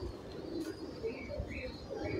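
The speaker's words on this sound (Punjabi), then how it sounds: "ਵਾਹ ਬੜੇ ਸ਼ਾਨਦਾਰ ਕਬੂਤਰ" Pigeons cooing softly in a loft, low repeated coos half lost under background murmur and room noise.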